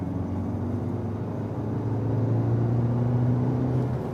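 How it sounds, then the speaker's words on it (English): A Kia Sportage GT accelerates from 70 to 100 in third gear, its engine a steady rising drone with heavy road rumble, loud and continuous with no speech. "Not an explosive sports car, but still reasonable acceleration."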